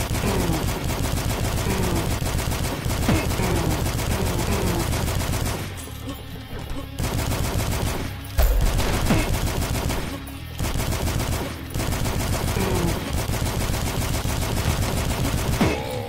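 Gunfire in the video game Dusk, loud bursts of rapid shots nearly continuous throughout, broken by a few brief pauses and one heavier blast.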